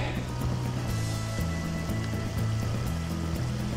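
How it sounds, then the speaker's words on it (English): Creek water flows steadily with a soft, constant burble, while a low rhythmic rumble pulses faintly underneath. "This is the creek where my brother was here the last time, and this is the creek now"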